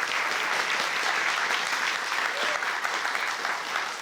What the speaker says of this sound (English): which deserves an extra round of applause